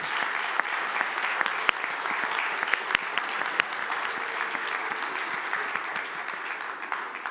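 A city council chamber erupts in sustained applause, many people clapping in a dense, even roar for several seconds, with no speech over it.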